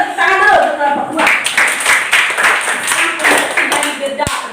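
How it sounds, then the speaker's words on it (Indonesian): A classroom of students claps for a presenting group, a brisk burst of hands clapping close by after a teacher's voice, continuing steadily with a sharp knock near the end. "tepuk tangan dulu untuk kelompok 2"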